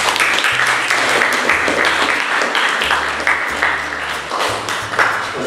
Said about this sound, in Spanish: Vamos a brindar un aplauso